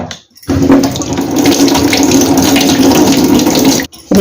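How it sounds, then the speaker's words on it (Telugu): A cucumber is washed under running tap water, which gushes loudly and close. A brief quiet moment at the start gives way to a steady, continuous splash that cuts off near the end. "దీన్ని ఒకసారి పైన శుభ్రంగా కడిగేయాలి"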